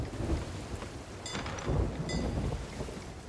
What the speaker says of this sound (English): Fuck this storm, though.